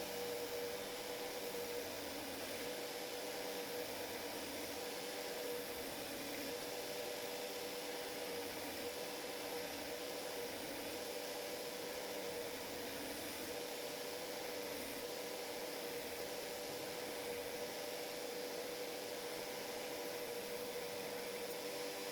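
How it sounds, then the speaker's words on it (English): A belt grinder running at 220 grit puts the final finish on a heat-treated knife blade, a loud, constant abrasive whir with no break from start to end. "Now I do the final finish on the grinder, also with 220 grit, removing the scratches from the previous steps"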